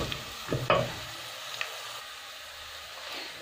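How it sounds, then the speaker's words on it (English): Whole spices frying in a pot for pilau, stirred with a few quick scraping clinks near the start, then a faint steady sizzle that trails off quietly. "And now begin to give it a good stir."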